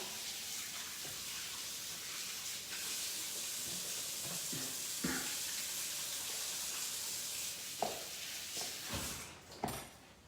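Tap water runs steadily in a home kitchen as someone washes their hands, a constant broadband hiss with a few brief splashes and knocks near the end.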